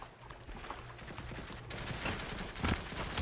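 Rapid rifle fire from an AK-like gun in World War Heroes, a WWII mobile shooter, rattles steadily at a moderate level and grows louder toward the end, with no talk over it.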